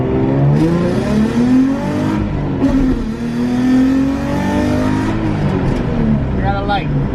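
A Nissan 350Z engine revs hard on nitrous through a long pull, pitch climbing and dropping across gears, loud and close, with voices faintly underneath.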